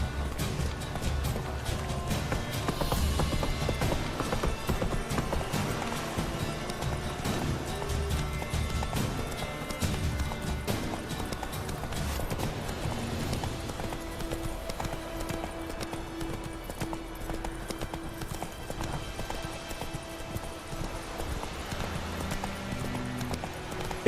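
A horse galloping in The Witcher 3 video game, with steady rhythmic hoofbeats close by over a busy game soundscape that has fainter impacts and tones and quiet background music.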